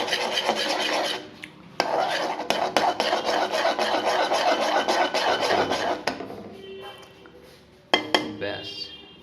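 Four beaten eggs sizzle in a generous pool of hot oil for fried rice, a dense continuous crackle and hiss that thins out partway through, then flares up again briefly near the end.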